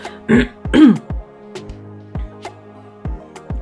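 A person nearby clears their throat and coughs a couple of times, followed by several sharp knocks or taps spaced irregularly in a quiet room.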